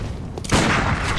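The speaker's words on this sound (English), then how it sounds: "And throw a Molotov." A Molotov cocktail bursts in the game Bloodborne, a sudden loud whooshing blast of fire that flares up after a brief quieter moment and then roars on steadily, close and dense.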